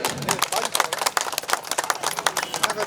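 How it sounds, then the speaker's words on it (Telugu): A crowd claps loudly at a YSRCP party joining event in Ongole, a dense, continuous rattle of many hands close by, with a voice faintly underneath. "వాళ్ళందరూ గట్టిగా ఒక్కసారి చప్పట్లు కొట్టాలి"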